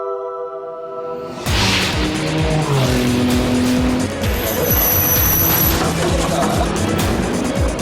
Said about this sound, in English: Benoit Tellier in the number 2 Audi has just come through there.